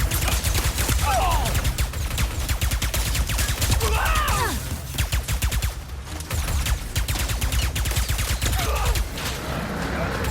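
Dense, continuous gunfire from a sci-fi shooter video game, Ratchet and Clank: Rift Apart, with rapid repeated bursts and loud blasts filling the whole stretch, plus brief vocal gasps in the mix.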